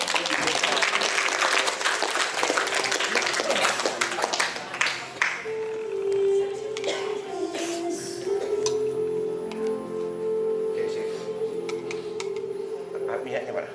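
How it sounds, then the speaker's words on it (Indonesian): An audience claps at a prayer service for the sick in Jakarta, a loud burst of many hands that thins out as a voice speaks over a sustained musical tone. "Ya, tepuk tangan kalau gitu."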